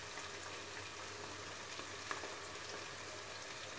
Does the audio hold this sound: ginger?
yes